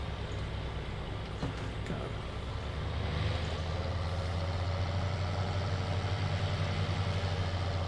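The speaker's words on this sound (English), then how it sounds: "there's another vehicle coming" A vehicle in Farming Simulator 19 rumbles closer with a steady low engine drone that grows slightly louder and fuller over the clip, alongside a tractor idling nearby; a brief spoken word breaks in early on.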